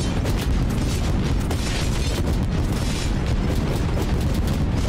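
Rapid, dense booming blasts from torpedoes detonating in the frantic shooter video game Neon Sundown, loud and continuous over a thick electronic game soundscape with no break.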